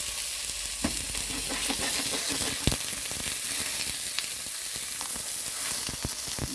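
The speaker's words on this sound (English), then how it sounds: "So I'm gonna place her in a nice hot pan" A cheese-stuffed burger patty sizzles steadily in a hot pan, a continuous loud frying crackle with scattered pops throughout, no voices.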